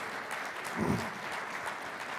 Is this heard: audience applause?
yes